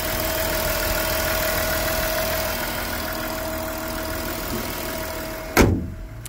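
A 2017 Volkswagen Touareg engine idles steadily and close by with a faint rattle, then a sharp thud like a door or hood closing near the end.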